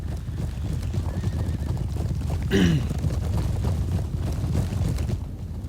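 Horse cavalry in the strategy game Third Age Total War rumbles past, a dense low drum of clip-clopping hooves throughout, with a loud neigh rising briefly in the middle.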